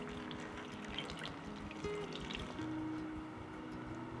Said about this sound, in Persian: اینجا من از نمک و آب روی بادمجون رو می‌ریزم